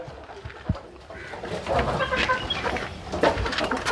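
Native country chickens squawk and cluck in agitated bursts while being caught, close by and fairly loud, with scuffling underneath and no clear talk.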